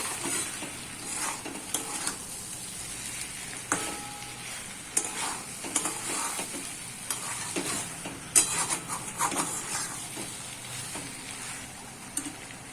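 Taro stolons sizzle as they fry in hot oil with an ongoing crackle, punctuated by scraping and clinking as they are stirred in the pan.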